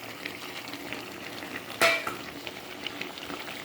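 Paneer cubes frying in a pan with poppy seed paste and Kashmiri chili powder, a steady low sizzle with a sharper clatter of utensil against pan near the middle, close and moderately quiet.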